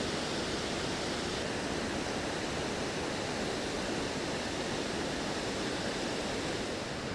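A steady, dense rush of falling water fills the whole clip, constant and unbroken, with no voices.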